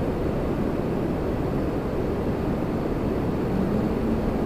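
Aircraft at Toronto Pearson airport, a steady broad jet roar holding at moderate loudness throughout with no talk, distant and continuous.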